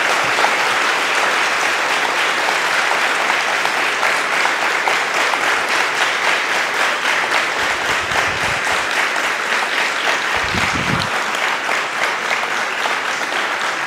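Sustained applause from a church audience welcoming Padre Luis, a steady dense roar of clapping hands filling the whole stretch, loud and continuous with no talk over it.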